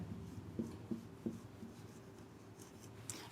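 Faint scratching strokes of marker or chalk writing English words on a board, a few short rubbing strokes near the start, then quiet continuous scraping in a calm room.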